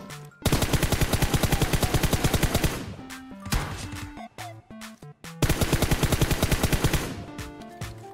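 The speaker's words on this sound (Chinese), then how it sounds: "我听到枪声了啊" Rapid automatic gunfire in PUBG Mobile: two long, loud, evenly spaced bursts of shots, separated by a quieter stretch of sparse single shots and clicks.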